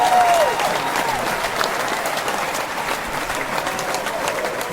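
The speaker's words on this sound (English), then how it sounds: "She's very loud in her applause." Studio audience clapping for interview guest Barbara Jacoby, a loud, dense burst of applause that starts strong and carries on steadily without talk.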